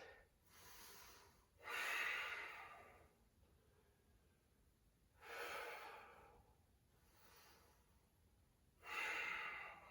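Deep breaths held through a triangle yoga pose: several long, airy inhales and exhales, close and fairly soft, spaced with quiet pauses and no talking.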